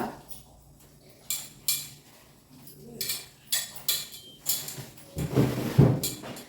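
A dough mixture with curry leaves is kneaded and squeezed by hand in a bowl, making wet squelches and slaps, with several sharp knocks and clinks against the bowl. It ends in a louder stretch of squishing close by, with no talking.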